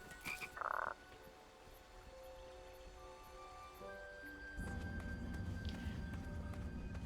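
Frogs croak in the King's Quest video game, a burst of loud croaks near the start followed by a steady chorus of croaking over a low ambient hum.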